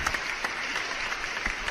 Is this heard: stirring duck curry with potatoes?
no